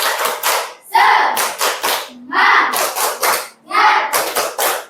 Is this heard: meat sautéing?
no